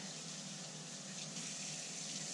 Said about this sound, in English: I'm going to wash my hands because I want to get that grease off my hands here